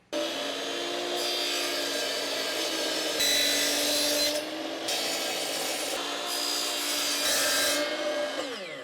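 Miter saw cutting aluminum trim for a utility cabinet. A sustained steady saw whine runs throughout, with brighter, louder stretches of cutting rising and falling several times, close and alone with no voices.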